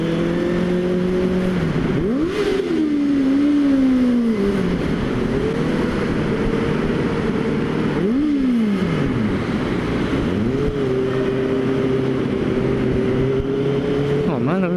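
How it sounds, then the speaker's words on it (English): A Benelli 600i ABS motorcycle with a loud aftermarket exhaust revs hard inside a short tunnel, its engine note rising and falling through repeated sharp throttle blips that echo loudly off the walls, with a rushing roar throughout. "When you have a loud exhaust, this is paradise."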